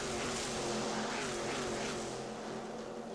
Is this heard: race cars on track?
yes